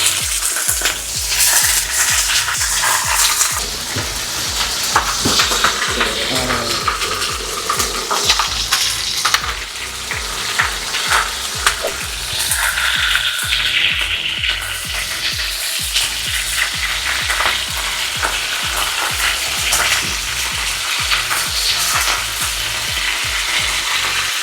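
Chicken thighs fry in a pan for chicken afritada, giving a loud, steady sizzle with scattered crackles and occasional scraping and stirring clicks throughout, with no talking.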